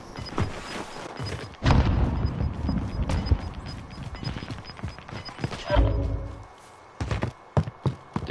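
Rapid sniper rifle shots in an online shooter game, a series of sharp cracks and thumps scattered across the clip, some louder bursts with heavier booms between quieter stretches.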